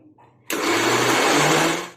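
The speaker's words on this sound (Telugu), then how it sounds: "మిక్సీ జార్లోకి ట్రాన్స్ఫర్ చేసుకొని మిక్స్ ఆన్ చేద్దాం" After a moment of quiet, a mixer grinder switches on abruptly and whirs loudly and steadily up close, grinding onions into a fine paste.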